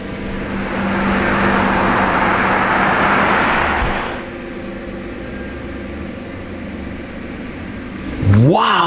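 A Lamborghini Revuelto driving on the road, its broad engine and road roar loud for the first four seconds, then easing to a steadier hum before a brief rising whine near the end.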